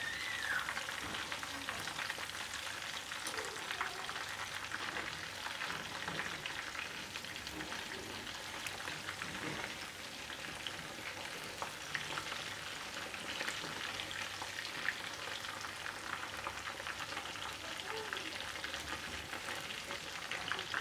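Chicken pieces fry in a pan with a dense, even sizzle that crackles on steadily and close by, with hardly any voice over it.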